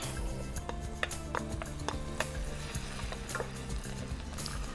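Onions and mushrooms cook in a pan for a Boxing Day pie, giving a soft continuous sizzle with occasional light ticks and stirring taps over a faint background hum.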